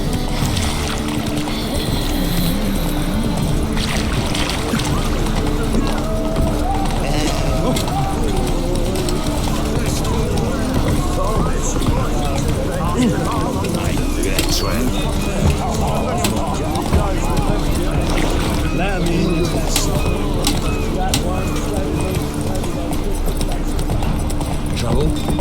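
A horse gallops in The Witcher 3 video game, its hooves beating a quick, steady clip-clop for the whole stretch beneath near-constant talking and other game sounds.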